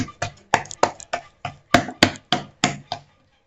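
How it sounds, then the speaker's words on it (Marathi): Fasting thalipeeth dough is patted flat by hand, about a dozen crisp, close slaps in an even, quick rhythm before the sound stops. "आणि असं थापून घ्यायचं झटकीपट होणार असं थाळीपीठ आहे"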